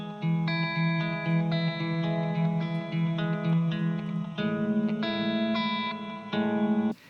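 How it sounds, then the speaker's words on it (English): Sustained guitar chords ring through the bright, dense plate reverb of a Blackstar ID:CORE V3 amp, each strum blooming and decaying smoothly into the next, with a brief pause before the final chords. "and there is plate reverb effects."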